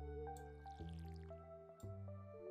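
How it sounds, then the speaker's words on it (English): A watering can is refilled with water in Stardew Valley, a modded farming game: soft dripping and squishy splashes come in short bursts over steady tonal game music. "I'm about to be out of water. So fill this back up."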